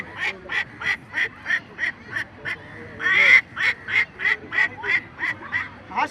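A person imitates a duck quacking, making a steady string of rhythmic nasal quacks in regular bursts, close and loud, with one longer call partway through.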